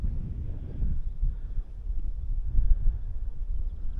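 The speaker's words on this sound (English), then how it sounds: "That wind is beautiful and cool as well." Wind gusts buffet the microphone at the top of the ruined Skelton Tower, a low, uneven rumble that swells and fades over several seconds with no voices.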